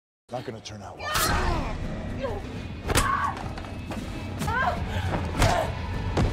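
A body is slammed to the floor during a film fight scene, heavy thuds and slams landing at irregular intervals with whooshing movement and sharp crashes between them, loud and close, over a rumbling soundtrack.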